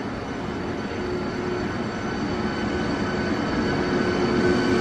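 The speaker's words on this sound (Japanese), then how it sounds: "まもなく2号線に京都河原町方面へ向かう電車が到着します。" A Hankyu 7300 series rapid train pulls into Nagaoka-Tenjin station with a steady, broad rolling rumble that slowly grows louder, heard alone without voices.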